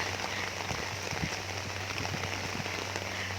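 Steady rain falls on a surface outdoors, a soft, even patter of dense drops with a low hum beneath it, and no voices over it.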